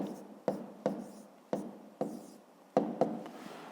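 A pen writing numbers on paper, heard as a close, quiet series of short scratchy strokes, about seven in under four seconds, with brief gaps between them and no speech.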